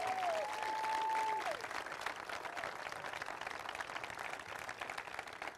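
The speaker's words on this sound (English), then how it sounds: "A big round of applause for David Craig." A crowd applauds a departing county executive at a political victory speech, steady distant clapping at low level with a faint tonal sound early on.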